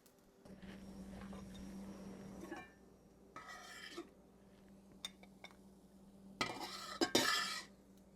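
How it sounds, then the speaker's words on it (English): Lentil sausage patties are flipped in a pan, with a few scattered spatula clinks and scrapes against the metal between quiet stretches. The bursts are short and fairly faint, the louder ones coming near the end. "But just keep flipping until all the edges are completely browned."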